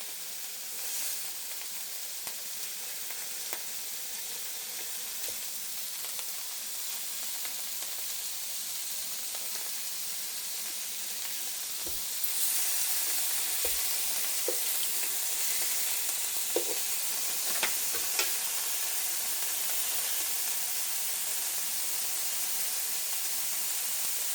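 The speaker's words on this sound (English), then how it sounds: "we're going to sear the sides all the way around to lock in the juices" Pork chops searing in a hot skillet give a steady, loud sizzle and hiss that grows stronger partway through, with a few faint clinks and bumps from the pan and no talking.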